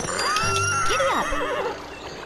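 A horse in Barbie Horse Adventures gives one loud, close whinny that rises, wavers and falls away over about two seconds, with faint hoof sounds beneath it.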